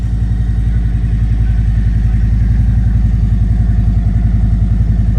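Motorcycle engine running close and loud at a bike-week setup in a park, a steady, throbbing low idle with no change in level and no voices.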